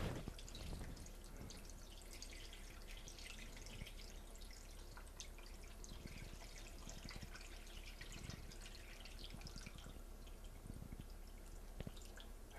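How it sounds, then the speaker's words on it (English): Water pours into a soup pot while preparing Jewish chicken soup in a kitchen, a steady faint trickling and dripping running continuously with no talk over it. "Okay, Trevor, now I'm going to put about 2 quarts of water into the pot."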